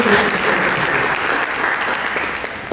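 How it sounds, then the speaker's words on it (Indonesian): A congregation at a church service claps steadily and loudly for Jesus, a dense wash of applause throughout. "Mari kita berikan tepuk tangan yang meriah bagi Yesus"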